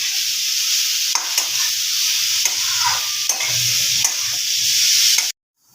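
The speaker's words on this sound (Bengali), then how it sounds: "খুব ভালোভাবে আমি এগুলোকে ভেজে নেব" Vegetables for vegetable chop fry steadily in hot oil in a pan, a continuous close sizzle broken by several sharp scrapes and clinks of a spatula stirring, with no talking.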